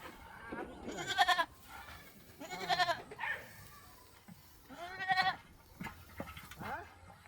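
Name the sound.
goats bleating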